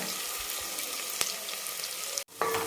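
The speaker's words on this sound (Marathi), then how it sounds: "तर आता आपण हे छान परतून घेऊ कांदा" Chopped onion frying in a pan as the base for a mutton curry, giving a steady broadband sizzle. A faint clink is heard midway, then a sharp cut-off and a brief clatter near the end.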